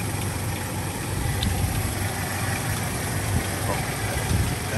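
A 1998 Toyota Tacoma SR5's 2.4-liter four-cylinder engine idles with a steady low rumble and constant vibration, heard close under a faint outdoor hiss, with no changes in pace.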